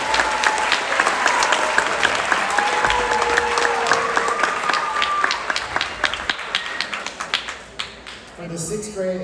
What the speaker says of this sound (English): Big round of applause for the 6th grade concert band.